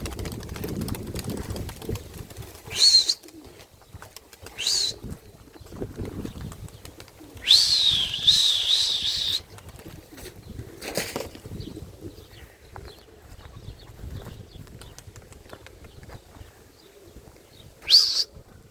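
Racing pigeons circle and come in to land, with several bursts of wing flapping and brief faint chirps spread over a quiet, low background rumble.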